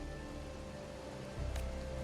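Rain falls in the video game Wuthering Waves, a steady soft patter over a low ambient hum, with a brief thump near the end and no one speaking.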